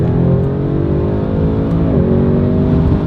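An Audi RS6 estate car accelerating hard, a steady loud engine drone heard from inside with a rising pitch that briefly dips around a gear change, no talking.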